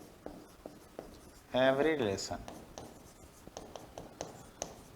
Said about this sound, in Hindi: मैं लिखता हूं फिर समझाता हूं।